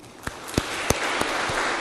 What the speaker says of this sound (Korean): 박수로 이 찬양을 하나님께 드립시다.